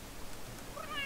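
A cat meows in The Sims 3 video game, a short high chirping call near the end, heard alone over a faint, steady background hum with no talking.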